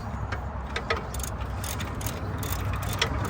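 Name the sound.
ratchet tightening brake caliper bolts on Nissan Pathfinder R51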